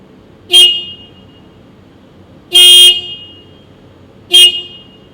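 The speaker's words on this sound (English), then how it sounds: "Test one with the original horn." Three sharp, loud car horn honks from a stock horn sound close by, short blasts spaced about two seconds apart, the middle one held slightly longer.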